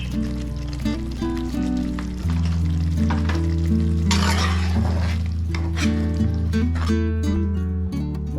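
Masala sizzling and being stirred in a pan for potato and egg biryani, a steady close frying hiss with scraping and clinking stirs, under continuous background music.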